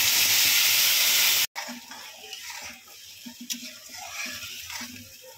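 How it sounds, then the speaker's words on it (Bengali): Ground spice paste added to hot oil for a Bengali fish kalia, starting with a loud hissing sizzle that cuts off, then settles into quieter bubbling frying with soft clinks and stirring. "সব রকম যে মশলা পিষে রেখেছি এটা এখন তেলের মধ্যে দিয়ে দেব।"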